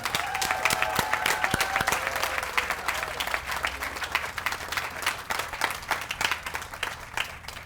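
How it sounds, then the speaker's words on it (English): A round of applause from guests at an outdoor garden party fundraiser, many hands clapping with sharp individual claps audible, strongest at the start then tapering slightly while continuing. "How about one more round of applause for the Benton family?"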